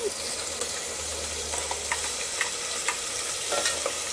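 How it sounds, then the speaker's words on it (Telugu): A tomato-onion paste frying in a pan for chicken curry, a soft steady sizzle with light scraping taps as it is stirred, close and continuous. "ఇది పచ్చివాసన పోయేదాకా ఒక రెండు నిమిషాలు ఇలా కలుపుకోవాలి"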